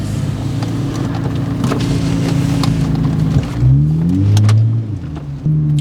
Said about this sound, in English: Okay, shifted in drive. Seems to be driving fine.